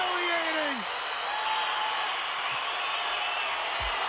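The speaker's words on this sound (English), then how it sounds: "And the crowd goes wild" A crowd at a Rollergames roller derby match cheers and applauds loudly in a dense, sustained wash of noise, with a whistle-like tone sliding down near the start.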